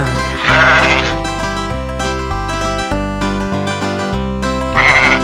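Sheep bleat twice in a French children's nursery song, the first call early and the second near the end, each sitting loudly over the bouncy music.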